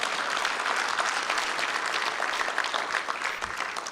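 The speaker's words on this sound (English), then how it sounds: "give God a hand clap of praise" A church congregation claps hands in praise, a dense, continuous round of applause from many people filling the room, steady and fairly loud throughout with no voices standing out.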